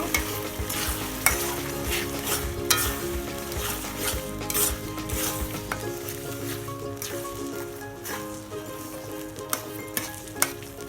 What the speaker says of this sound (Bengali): তারপরে আমলকির সাথে গুড় মিশিয়ে নেব।